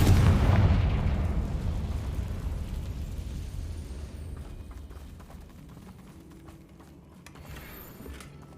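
A Bombarda or Confringo spell explosion in Hogwarts Legacy lands as one big, close blast already underway, its deep rumble slowly fading over several seconds into low background noise, with no voices.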